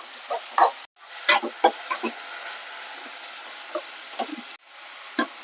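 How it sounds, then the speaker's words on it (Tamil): Chopped cabbage and onion being sautéed together in a pan for a stir-fry, with scattered clinks of a stirring spoon over a soft sizzle and two brief silent gaps. "கேபேஜ் வந்துட்டு வெங்காயம் கொஞ்சம் நிறைய போட்டா நல்லா இருக்கும் ரெண்டுமே வதக்கிக்கலாம்"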